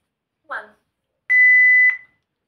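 A single steady electronic timer beep, loud and close, sounding once for about half a second after a brief voice, during a countdown for a drink challenge.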